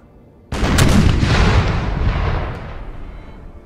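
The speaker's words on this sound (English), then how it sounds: "Oh, that's a pretty nice target for my artillery." Artillery fires in Napoleon: Total War as a loud booming blast that erupts suddenly, with crackling bursts trailing off and a rumbling tail fading over a few seconds.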